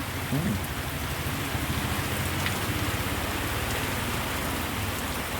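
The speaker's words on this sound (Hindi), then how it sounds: "गाँव में बारिश हो रही थी।" Steady rain pours down on an Indian village in a constant dense hiss, close and enveloping, with no voices.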